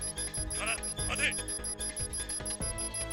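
Alarm tone from the video game 428: Shibuya Scramble, a bright ringing pattern repeating in short bursts over game music and talk, with two louder trills near the start.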